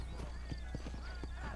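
Horse hooves in the Red Dead Redemption video game clop in a quick, regular trotting rhythm, faint and low under a steady background hum.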